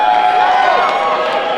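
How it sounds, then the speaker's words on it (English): A packed wrestling crowd at Temple Live cheers and roars loudly and continuously at an Absolute Intense Wrestling show, a dense wall of many voices with shouts rising above the din. "Fans going crazy."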